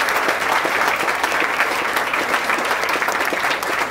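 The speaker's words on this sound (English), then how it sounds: "would you put up your hands and applaud?" An audience applauds steadily for several seconds, a dense, even wash of clapping hands at a sustained level.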